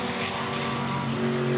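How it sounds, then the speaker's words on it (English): A 1959 Jaguar with a 3-litre XK straight-six racing on a circuit, its steady engine note droning loudly and evenly throughout, building slightly toward the end with no voices over it. "big powerful 3-litre Jaguar XK engine"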